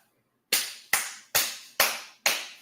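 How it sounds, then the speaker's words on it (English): Five sharp, evenly spaced hand claps, crisp and close, follow a moment of silence, with no voices, from a few people applauding a speech about military forces stopping a protest. "It was two people that clapped."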